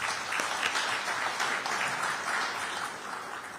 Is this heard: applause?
yes